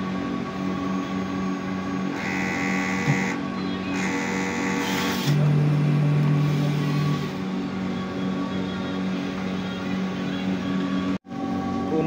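A large-format printer runs a print-head cleaning cycle with a steady mechanical hum and whir, shifting tones and brief pitched motor whines partway through, then a sudden short cutout near the end.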